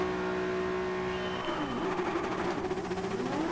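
Game engines of a Nissan and a Dodge Viper in a Gran Turismo 7 drag race, a steady loud drone with rising revs and shifting pitch sweeps partway through, no talk.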